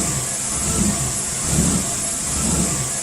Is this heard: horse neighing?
no